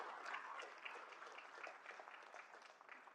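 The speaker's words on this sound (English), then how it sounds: "can we please give another round of applause to everyone on our panel?" Audience applause for a youth forum panel on renewable energy, a steady dense patter of many hands clapping throughout, moderately loud with no talk over it.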